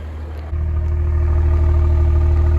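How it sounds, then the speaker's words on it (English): A 2018 BMW X3 M40i starting up and settling into a steady, deep idle with a smooth, even hum, close and loud with no talking. "a very nice idling sound. Not too understated, but not raucous and obnoxious."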